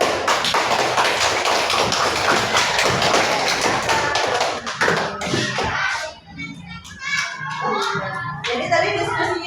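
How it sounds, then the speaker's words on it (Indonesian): A classroom group of children claps and taps their hands in a busy, uneven patter that thins out partway through, with children's voices rising among the claps. "Oke, ya, kasih tepuk tangan."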